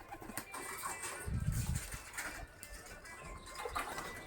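White local domestic pigeons at a pigeon farm give a low, soft coo burst near the middle, set against a steady background hiss with no clear talk.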